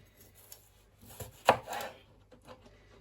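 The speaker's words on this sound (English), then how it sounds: "So I'm going to cut my peppers." Knife chopping bell peppers into squares on a board, a few sparse close chops with one sharp loud cut in the middle and softer taps around it, otherwise quiet.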